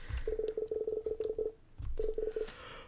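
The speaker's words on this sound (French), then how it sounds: "composer le numéro" Touch-tone keypad beeps as a telephone number is dialed in the video game Paper Lily: a quick run of about ten evenly spaced tones, a short pause, then three more, faint and alone.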